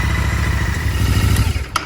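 A Royal Enfield Interceptor 650 idles close by with a steady, loud mechanical thrum and light clatter, and a brief sharp tick near the end.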